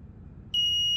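Silence broken halfway by a single sharp, sustained high-pitched electronic beep from an Arduino LoRa module that starts abruptly and continues steadily.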